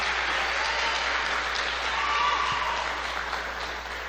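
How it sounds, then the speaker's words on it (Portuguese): Congregation in a church service giving a round of applause, a fairly soft, steady patter of many hands heard from a distance, tapering slightly toward the end. "Dê uma linda salva de palmas, Senhor."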